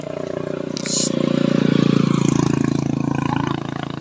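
A motorcycle engine idles and revs steadily close by, a low throbbing rumble with a brief rise in the middle, without voices over it.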